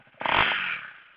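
Husqvarna Vitpilen 401 motorcycle from 2018, fitted with an Akrapovič exhaust with a decibel killer, revving in one loud, rough burst that swells quickly and then fades over about a second.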